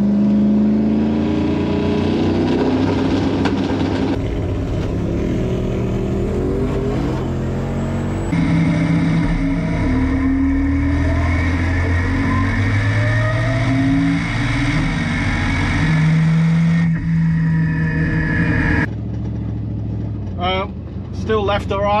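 Toyota 3RZ-powered drag race car making a pass at Kenda 660 Palmyra in Mackay, its engine roaring loudly and steadily through the run with gear changes, crowd and talk audible underneath.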